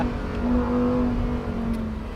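A Lamborghini Huracan STO engine pulls hard on track with its exhaust valve open, a steady loud droning roar with a strong low tone running continuously without talk.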